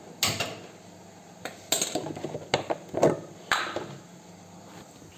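A pressure cooker is switched on in a home kitchen, giving several sharp metallic clicks, knocks and clanks spaced irregularly over a few seconds, fairly quiet and close, with no talking.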